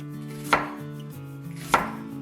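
Two crisp, well-spaced knife chops cut through onions on a board over a steady low hum.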